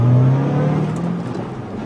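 A Ford Mustang with a 435-horsepower engine gives a short, loud, steady engine drone with a low rising tone, close by, with no voices.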